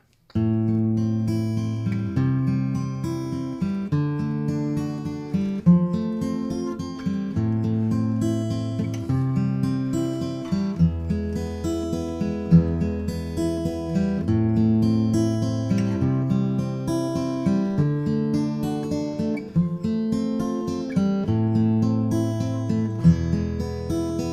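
Fingerpicked acoustic guitar playing arpeggiated chords in a steady, rolling pattern, clear and close, with no voice.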